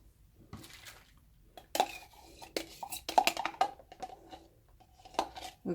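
A cup of Reeves pre-mixed metallic acrylic pour paint is flipped onto a surface, making soft plastic knocks, taps and a wet squish, fairly close and quiet.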